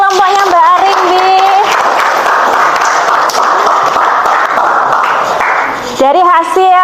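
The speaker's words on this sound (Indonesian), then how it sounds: "tepuk tangan buat kelompoknya Mbak Arimbi" A classroom group breaks into loud clapping and cheering for a student team for about five seconds, with voices sounding briefly before the burst and again as it dies away.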